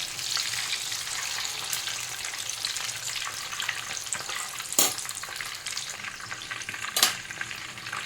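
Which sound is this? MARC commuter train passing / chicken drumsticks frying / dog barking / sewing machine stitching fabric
chicken drumsticks frying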